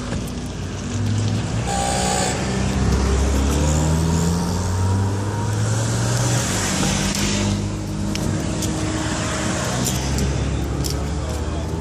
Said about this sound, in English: you can cut the wheel real sharp and try to back right off here off the road